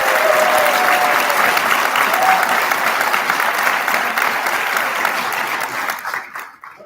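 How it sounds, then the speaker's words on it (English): Sustained audience applause at a university physician assistant program pinning ceremony, a dense wash of clapping held steady at close range for several seconds before tapering off near the end. "Let's give them a round of applause."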